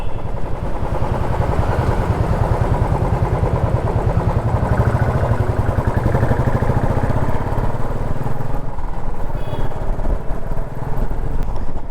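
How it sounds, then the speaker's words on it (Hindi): Royal Enfield Classic 350 motorcycle on a night ride, its single-cylinder engine thumping in a steady, close, loud rhythm throughout with continuous road and wind rumble. "हम एंजॉय करते हैं अपनी night ride with royal Enfield classic 350।"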